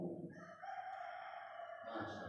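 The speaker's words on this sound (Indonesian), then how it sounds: "Jadi itu kokokan ayam itu tasbih Pak." A rooster crows once, a long, loud call close by, with no talking.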